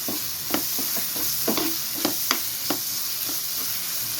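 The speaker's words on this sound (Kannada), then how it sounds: "ಈ ಮಸಾಲ ಚೆನ್ನಾಗಿ ಹುರ್ಕೋಬೇಕು" Masala frying in a pan with goat blood for a fry dish, giving a continuous hiss and sizzle with repeated scraping stir strokes at an uneven rhythm, heard close with no voices.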